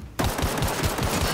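Rapid rifle fire from The Outer Worlds video game, a fast run of evenly spaced loud shots that starts abruptly and continues steadily with no talking.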